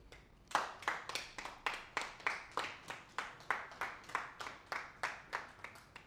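Audience at a food-show taping applauding for a guest actress, clapping in a steady rhythmic beat, moderately close and alone without talk.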